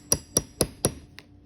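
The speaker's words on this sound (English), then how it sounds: "So basically, you put that point on your mark and just hit a few times with the hammer." Hammer tapping a metal point punch into a tin puppy food can, four sharp, evenly spaced metallic taps close up, followed by one fainter tap, with no talk.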